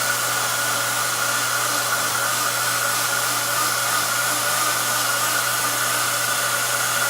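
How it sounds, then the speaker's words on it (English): A blender purees corn and herb soufflé batter with a steady, loud, unbroken motor whir that holds an even pitch throughout, close and with no talking. "You want to blend this into a smooth puree for about 30 seconds."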